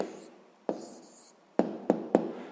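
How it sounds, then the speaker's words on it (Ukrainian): Pen writing an answer by hand on paper, soft scratching strokes with four sharp taps as it touches down, close and quiet, no voices. "Отже, записуємо відповідь."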